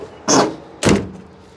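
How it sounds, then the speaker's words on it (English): Heavy door on a 1968 Cadillac hearse shut twice in quick succession, each a short, solid thud close by, with no talking. "Door shuts nice."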